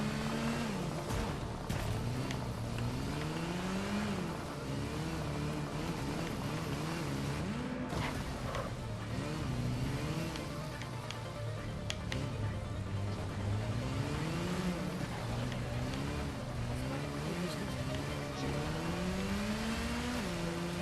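Motorcycle engine from the Gotham Knights video game, revving up and down in rolling waves as the bike is ridden continuously. It is loud and steady, with no one talking.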